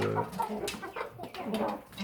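Chickens cluck in a village yard, a steady run of short close calls with some overlapping voices over a faint background.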